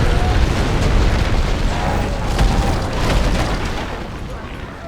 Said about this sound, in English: I wait and get the barrage. And I go ahead and drop it right here